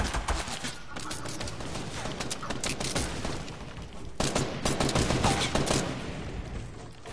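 Rapid, sustained gunfire in a PS4 video game, dense bursts of shots crackling continuously at moderate loudness, with a sharper flurry midway.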